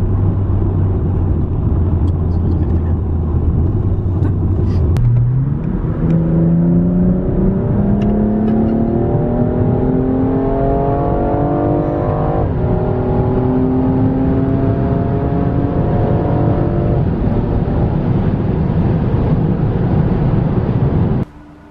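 A BMW M2 pulls away and accelerates hard, its engine note climbing steadily through the gears with a loud, continuous rising whine over road rumble, up close and with no talk.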